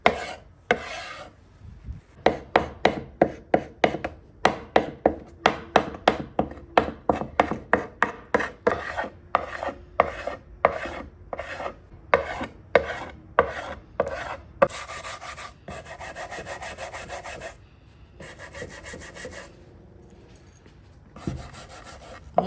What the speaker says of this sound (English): I'm going to come back with my carbide scraper